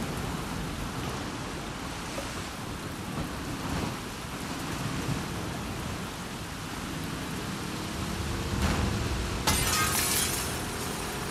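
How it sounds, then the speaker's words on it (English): Heavy rain pours steadily through a thunderstorm in The Last of Us Part II, with rolling rumbles and a louder crack of thunder near the end, no voices. "Oh, the storm's getting worse over here."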